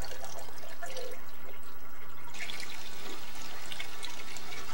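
Water pours steadily from a fish tank into a bucket, a close, continuous splashing and trickling with a few faint drips, no voices.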